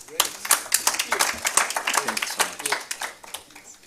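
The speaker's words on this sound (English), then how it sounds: "A round of applause for her again" Audience applause at a Kenya diaspora homecoming convention, a dense crowd clapping steadily throughout with a speech-like murmur mixed in.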